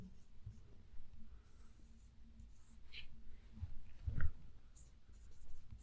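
Chalk or marker scratches and taps on a board during a Hindi grammar class, faint and intermittent with short strokes, in a quiet room with soft breathing and low murmuring.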